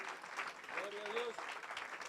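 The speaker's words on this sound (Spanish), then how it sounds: "Un fuerte aplauso a Jesús," Church congregation applauding during a Spanish-language service, steady clapping with voices over it.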